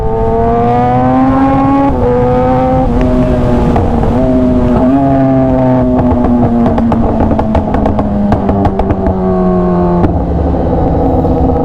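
A Kawasaki ZX-10R big bike revs hard through the gears, its loud close engine tone climbing and dropping with each shift, with bursts of crackle between changes and no talk.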